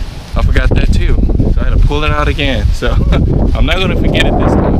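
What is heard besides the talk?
wind blowing outdoors into the microphone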